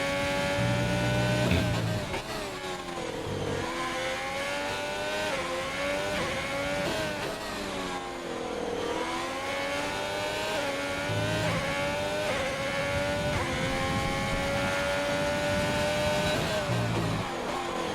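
Formula-style race cars in a Dutch Grand Prix qualifying session of a racing game hold a steady high engine whine, with repeated upshifts and revs rising and falling throughout and no talking.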